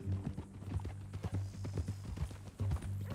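Horse hooves clip-clop steadily in Red Dead Redemption 2, close and moderately loud, with a quick rhythm of hoof falls and no talk over them.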